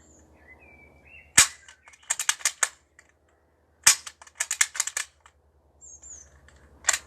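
A historic military bolt-action rifle is worked and dry fired twice, each cycle a sharp metallic snap followed by quick clacking bolt movements, close and crisp with a quiet pause between the two sequences.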